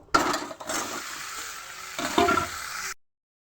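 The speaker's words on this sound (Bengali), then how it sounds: "লাল লাল করে ভাজা হয়ে গেছে এবার আমি মাংসটা ঢেলে দেবো" Chicken meat tipped into hot oil with red-fried onions, a loud wet sizzle that bursts up at once, eases off, swells again as more goes in, then stops abruptly.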